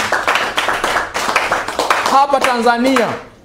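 An audience at a Tanzanian public talk claps in a run of sharp, rhythmic hand claps, then a voice rises over the tail of the clapping.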